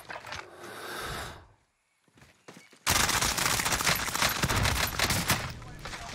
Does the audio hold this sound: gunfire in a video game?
yes